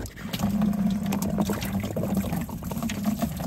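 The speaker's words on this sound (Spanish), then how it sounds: "retiramos el manguito inferior del radiador y nos preparamos para recoger el líquido" Coolant, mostly water, pours and splashes steadily from the lower radiator hose of a BMW 530d (E39) into a container, a continuous gurgling stream with faint clinks, close by and without speech.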